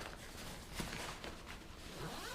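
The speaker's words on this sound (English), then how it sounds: "Now this pocket opens up. Got the zipper." A zipper runs along a pocket of a Flambeau Portage P50BP tackle backpack, a quiet close rasp of zipper teeth in a couple of short pulls.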